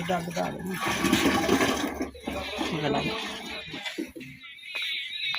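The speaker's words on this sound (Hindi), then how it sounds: "ये मैंने 1 किलो गुड़ मैंने डाली है" Dissolved jaggery solution, one kilogram, poured into a jeevamrit mixture for farming, giving a loud, sloshing liquid splash and gurgle while someone speaks over it.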